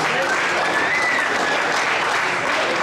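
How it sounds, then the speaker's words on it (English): Audience at the final of the Mitchell Billiards Western National applauding with dense, steady, close-sounding clapping that holds evenly throughout. "Big round of applause for Terry."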